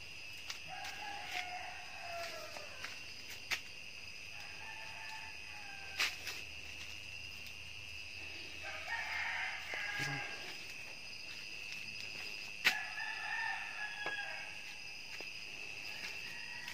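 Chicks peep in the dark during a power outage, a steady high chorus of thin chirps running the whole time at moderate distance, with occasional clicks and rustles and a rooster-like call in the background.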